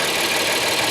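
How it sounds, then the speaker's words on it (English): A 2024 Honda Odyssey engine idles after an oil change, a steady, even mechanical hum heard from close by, with no voices. "You can hear the engine is running really smooth."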